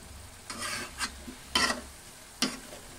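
Ingredients are stirred in a sizzling pan, with several distinct scraping strokes over a low, steady frying hiss, close and moderately loud.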